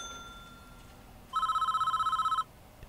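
An old-style telephone rings once in the prison management game Prison Architect, a loud, close electronic bell trill lasting about a second over a quiet background hum.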